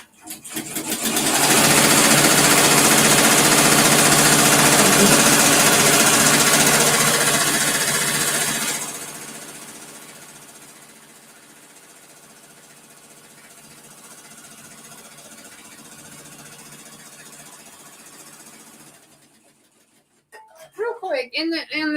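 An embroidery machine stitches an in-the-hoop Thanksgiving project with a loud, rapid buzzing rattle that eases into a softer steady hum, before a voice speaks at the end.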